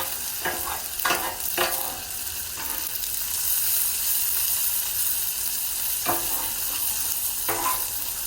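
Ribeye steak fat renders on a Blackstone griddle with a loud, close, continuous sizzle, broken by several scraping strokes of a spatula.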